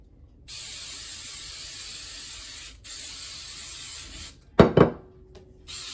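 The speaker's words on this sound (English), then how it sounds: "it says to spray this with coconut oil" Two short broadband hissing bursts of an aerosol coconut oil cooking spray, close up, around a quiet background with a faint steady hum.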